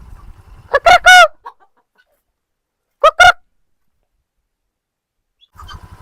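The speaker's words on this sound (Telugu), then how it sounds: "ఇక్కడ రకరకాల నాటుకోళ్లు ఉన్నాయి" Country chickens on a farmhouse, with several breeds kept together, cluck in short loud bursts close up, two clusters of calls separated by quiet, then faint low clucking at the end.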